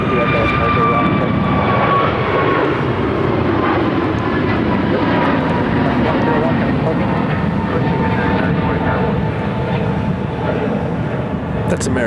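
American Airlines Airbus A321 takes off at Phoenix airport with a loud continuous jet roar and a whining tone that slides down early on, while people talk intermittently underneath.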